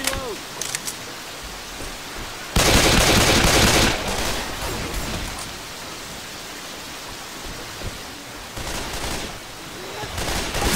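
Shotgun fire in Left 4 Dead 2 during a hard rain level, a loud dense blast burst standing out above a constant hiss of rain and background gunfire, with a later, weaker burst.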